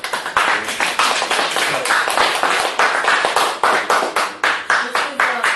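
A small audience claps in thanks after a lecture, loud, close and fairly sparse, with distinct individual handclaps in an uneven rhythm running steadily throughout.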